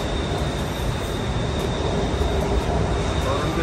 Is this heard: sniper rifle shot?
no